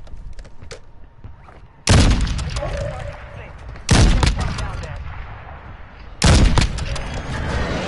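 Gunshots in a shooter video game, three loud, sharp reports spaced a couple of seconds apart, each ringing out with a booming tail, with faint smaller clicks in between.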